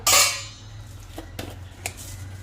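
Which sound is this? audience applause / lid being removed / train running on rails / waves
lid being removed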